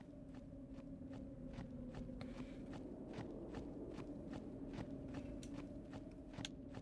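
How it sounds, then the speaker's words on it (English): Regular in-game footsteps from Final Fantasy X, a walking character's steps landing at a brisk even pace, distinct and fairly close above a sustained low background hum. "Listen to his footsteps."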